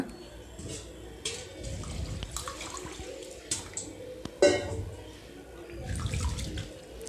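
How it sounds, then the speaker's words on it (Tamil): Water sloshes and swishes as ration rice is rinsed by hand for idli batter, with soft splashes, drips and occasional clinks, close by and fairly quiet. "இதை நல்லா கழுவி க்ளீன் க்ளீனாக கழுவி நம்ம தண்ணி ஊற்றி ஊற வைக்கலாங்க"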